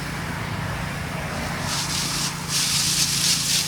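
A steady hiss of pesticide spraying on cedar trees infested with bagworms, swelling and growing louder in the second half, over a low continuous hum.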